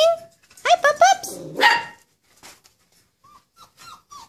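A dog barks a few times in quick succession, close and fairly loud, while someone talks to puppies at play; afterward the scene falls quiet apart from faint sounds.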